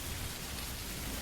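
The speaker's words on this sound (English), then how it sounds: "Outside, it begins to rain." Steady rain falls outdoors as a dense, even hiss of drops, loud and close, holding constant throughout with no voices.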